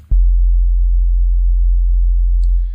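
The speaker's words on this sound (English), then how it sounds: "I'm going to go for a sine wave." A single deep, pure bass tone from a synthesizer sine wave starts abruptly and holds steady, smooth and loud, fading slightly at the end, with no other sounds.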